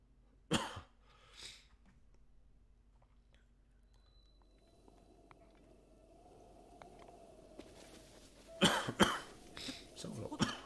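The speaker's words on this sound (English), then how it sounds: "I apologize, I keep coughing" A person coughs twice near the start, then coughs again in a rapid cluster of harsh, close bursts near the end, with quiet game sounds humming in between.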